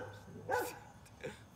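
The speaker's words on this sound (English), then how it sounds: "This dog is getting on my nerves." A single sharp dog bark stands out against a quiet indoor background, followed moments later by a softer second bark or yelp.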